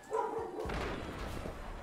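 A dog named Hagrid barks indoors, giving a sharp close yip followed by a few softer whimpering barks, with a thump mixed in.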